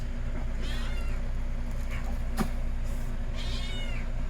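A cat meows twice, a few seconds apart, over a steady low hum in the room.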